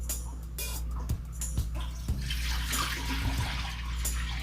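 Milk punch is poured from a container back into a bowl, a steady liquid splash and trickle heard close up and fairly quiet, with a few small knocks.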